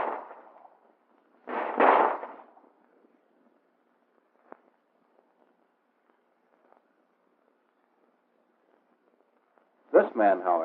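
Two sharp gunshot bursts from a 1911 handgun during firing practice, one near the start and another at the end, separated by a long quiet stretch with faint clicks.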